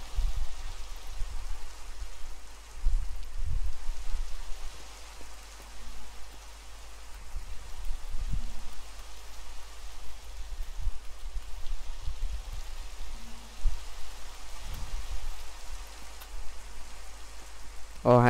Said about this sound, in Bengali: ও আচ্ছা বৃষ্টি।